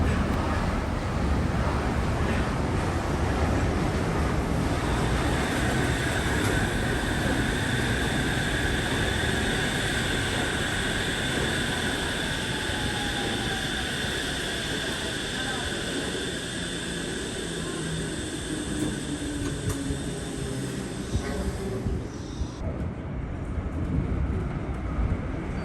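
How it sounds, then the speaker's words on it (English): Shonan Monorail train at Kamakura station arriving and running, a long steady rumbling roar with a high whine, loud throughout and fading slightly toward the end. "And here is our train."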